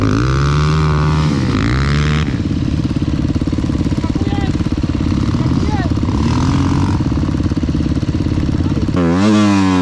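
A Beta 350 RR enduro motorcycle engine revs while riding, a loud close buzzing drone with rising and falling throttle, under bursts of talk.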